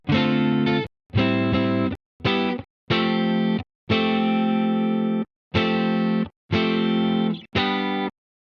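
Eight distorted electric guitar chords ring out one after another with short gaps between them, processed with chorus-like effects, loud and close.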